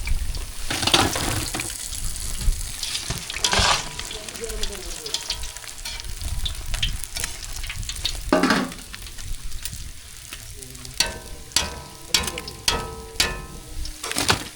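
Fish frying in hot oil for a crispy fish fry, giving a steady, loud, close sizzle and crackle with occasional clattering stirs and splashes throughout, and no voices.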